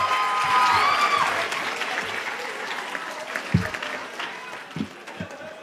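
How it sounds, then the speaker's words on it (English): A crowd applauds new certified nursing assistants at a graduation ceremony, loud dense clapping that gradually thins and fades, with a few scattered claps and faint voices toward the end. "Let's give one more round of applause to our new certified nursing assistants."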